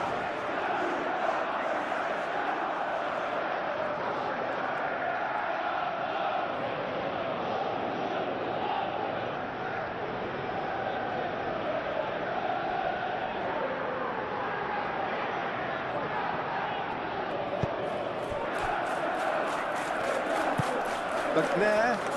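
Simulated stadium crowd in PES 2021 football game, a constant dense roar of chanting fans that holds steady throughout, with a commentator's voice over it.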